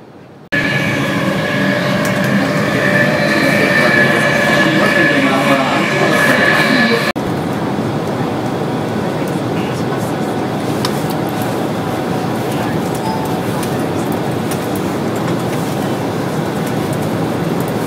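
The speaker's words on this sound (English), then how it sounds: "Virgin train to Manchester" A Virgin passenger train bound for Manchester rumbles by with a loud, steady roar and tonal whine that cuts off abruptly, leaving continuous rolling rail noise.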